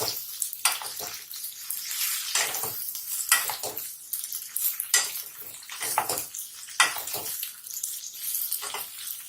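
Okra (bhindi) being stirred in hot oil in a pan, with repeated scraping strokes of a spoon against the metal over a steady bright sizzle, close and fairly loud.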